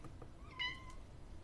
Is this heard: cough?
no